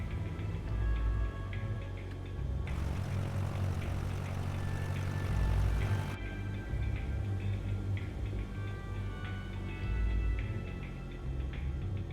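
Propeller airplane in Microsoft Flight Simulator, a steady engine drone with low rumble holding at even loudness throughout, with a brief brighter surge in the middle and no talking.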